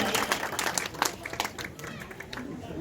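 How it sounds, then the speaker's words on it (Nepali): Applause at a high school event, a scattered patter of clapping hands from a modest crowd, fairly faint, with voices talking underneath. "आफूले आफूलाई नै स्वागत गर्दै भव्यताका साथ एकचोटि ताली बजाउनु आफ्नो लागि कति आनन्द आउँछ है।"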